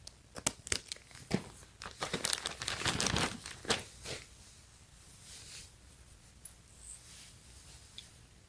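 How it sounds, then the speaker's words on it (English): Packing tape on a package is sliced open, giving close crinkly tearing and rasping bursts in quick irregular strokes that build and then fade into sparse rustles, with no talking. "I'm just gonna cut it open. Cut the tape, I mean."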